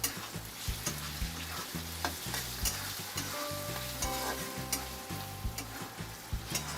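Ginger and garlic with onion frying in a pan, a steady loud sizzle broken by regular rhythmic scraping and stirring strokes, close up and without talk.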